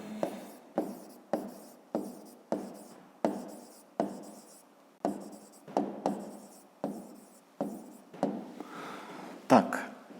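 A pen scratches out an answer by hand in a series of short, rhythmic strokes, roughly a dozen evenly spaced bursts, close and clear, with a brief rustle near the end.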